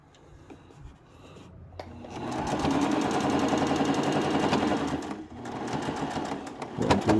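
A sewing machine stitching a hem on a tabard, starting with a few short bursts before running steadily in a fast rattling rhythm for several seconds, pausing briefly, then resuming, close and clear.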